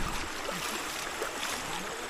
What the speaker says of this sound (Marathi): इथं पाणी किती वावतं बाबा माझ्या